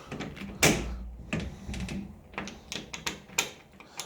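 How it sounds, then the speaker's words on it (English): A metal electrical cabinet door in a workshop pulled open, a sharp latch clunk followed by rattling and scraping knocks, close and fairly quiet with no talking. "Let me pull this cabinet open."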